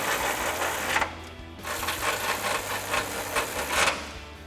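Ratchet with a 21mm socket on a swivel extension tightening nuts on a Ford F-150 intercooler, rapid repeated clicking in bursts, close and loud, with a brief pause.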